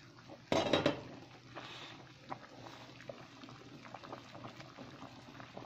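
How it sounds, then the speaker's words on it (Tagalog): Liquid boiling in a pot of spare ribs cooked in Coca-Cola, a steady soft bubbling and simmering, close and faint, with a brief clatter of a pot or lid at the start. "At ito, kumukulo na siya."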